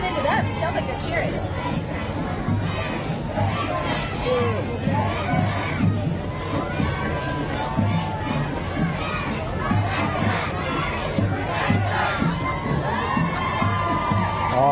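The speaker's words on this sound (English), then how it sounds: "It sounds like they're cheering." An elementary school pep team cheers during a Christmas parade in Bakersfield: a steady, dense roar of shouting children and crowd noise with a rhythmic chant-like pulse, loud and continuous throughout.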